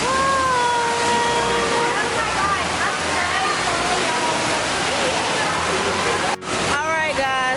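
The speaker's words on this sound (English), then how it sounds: "We finally made it to the water park downstairs." Water rushes and splashes steadily at an indoor water park, a loud continuous wash with brief voices near the end.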